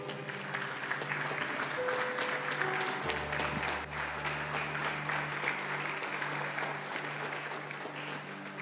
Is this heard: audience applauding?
yes